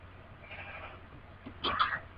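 Video-game sheep bleat near the end of a quiet survival-game scene, a short burst of one or two calls standing out from a low background hum.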